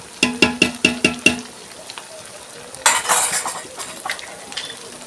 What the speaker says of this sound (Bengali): আদা রসুন পেঁয়াজটা আমার ভালো করে ভাজা হয়ে গেছে